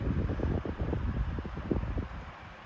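A 1970s Super 16-inch oscillating fan runs steadily, giving a soft, broad whooshing hum with gentle pulsing as the airflow shifts, close by and without voices.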